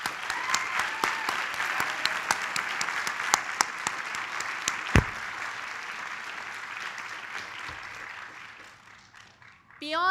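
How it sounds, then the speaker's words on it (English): Sustained crowd applause at a law school graduation ceremony, dense clapping throughout with a few sharp claps standing out, tapering near the end. "Let's give them a round of applause."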